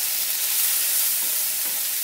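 Spice masala for Bengali-style tilapia dopiaza fries and sizzles steadily in a pan, a close, continuous hiss with faint stirring scrapes and no talking.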